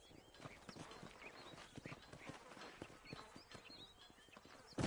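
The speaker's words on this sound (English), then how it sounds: "These are fine horses." Horse hooves clip-clopping in the video game Red Dead Redemption, a steady rhythmic trot of several horses close by, with faint background game sounds and no talk.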